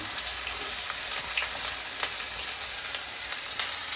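Onion frying in a pan with cumin seeds and dried coriander, a steady dense sizzle that holds close and loud throughout, with faint crackles and stirring scrapes and no talking.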